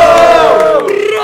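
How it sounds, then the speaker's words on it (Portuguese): Loud crowd at a hip hop battle roars and cheers in one sustained, dense wave of many voices throughout the short moment. "Faz muito barulho aí para o hip hop."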